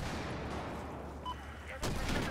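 A magnum revolver fires in a Battlefield 4 match, a sharp loud crack near the end cutting through steady game noise and distant battle sounds.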